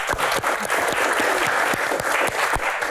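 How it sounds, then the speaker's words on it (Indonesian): Audience at a live Q&A event in Indonesia breaks into sustained, dense applause, a steady wash of many hands clapping with no voices over it. "Tepuk tangan luar biasa."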